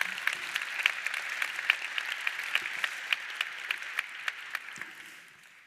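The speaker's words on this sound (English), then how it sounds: "Oh, I'll take applause first." Audience at a Web3 Summit conference talk applauding, a steady, moderately distant patter of many hands clapping that holds evenly and then tapers off at the end.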